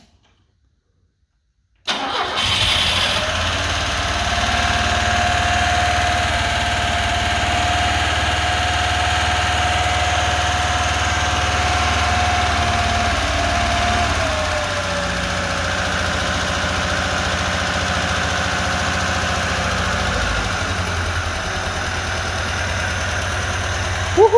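A LADA 2104 car engine cranks briefly, catches and settles into a steady, slightly rough idle that runs for about twenty seconds, close up and loud.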